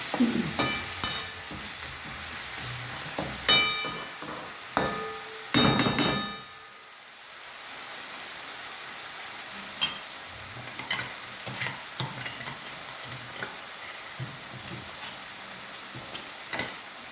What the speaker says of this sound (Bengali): আমার মশলাটা একদম ভালো করে ভাজা হয়ে গেছে